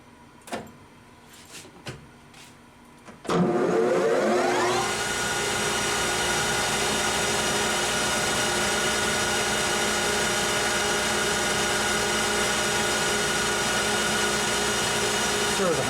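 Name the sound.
lathe machining metal part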